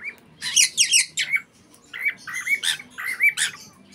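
A loud, noisy male bird sings and squawks in bursts of rapid chirps and harsh calls, close by and alone, with brief pauses between phrases.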